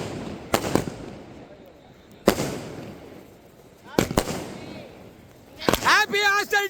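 A 60-shot firework cake fired illegally at a hostel, its loud sharp bursts coming in separate cracks spaced a second or more apart, with a louder crackling flurry near the end.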